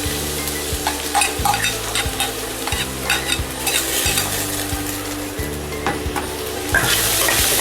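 Onions sizzle and fry in a cooking masala in a pan while a spoon stirs them in a regular scraping rhythm, close and loud, with a steady hiss beneath the strokes.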